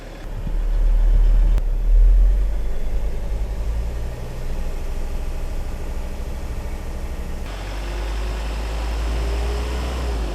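A car engine hums steadily at 1,000 rpm idle, then rises in pitch and loudness as it revs up to 1,500 rpm, with a sharp shift partway through.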